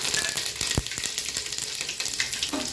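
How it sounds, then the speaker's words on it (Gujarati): Mustard seeds, cumin and curry leaves sizzling in hot oil with cloves, cinnamon and bay leaf for undhiyu, a steady close hiss with scattered sharp pops and crackles. "હવે થોડી રાઈ નાખીશું ત્યારબાદ થોડું જીરું લીમડાના પત્તા"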